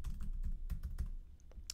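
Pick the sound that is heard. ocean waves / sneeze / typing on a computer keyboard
typing on a computer keyboard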